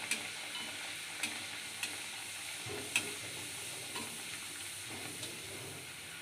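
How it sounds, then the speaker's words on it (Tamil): Varagu rice puri deep frying in hot oil, a continuous hiss and bubble with faint spoon taps at regular intervals. "பூரி எப்படி வருது பாருங்கள் புஷ்ஷுன்னு வரும்"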